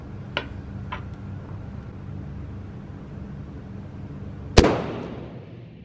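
A single sharp sniper rifle shot cracks at an outdoor shooting range, loud and close with a short echoing tail, after two faint clicks in a steady low hum.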